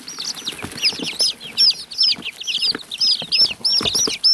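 Baby chicks kept off-grid chirping constantly up close, a busy overlapping chorus of high peeping calls with soft rustling underneath.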